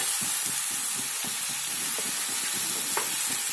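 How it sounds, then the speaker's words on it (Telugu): Gongura leaves fry in a hot pan with a steady, close sizzle and hiss, broken by faint stirring clicks and scrapes. "గోంగూర అంతా ఇలా ఒక ప్యాన్లో వేసేసుకోవాలన్నమాట"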